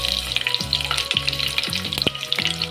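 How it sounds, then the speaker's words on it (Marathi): Green chilies hit hot oil for kadhi with a loud, crackling sizzle, close and continuous, with bursts of spatter and a few stirring scrapes, no voices. "आता आपल्याला घालायचे इथे हिरवी मिरची"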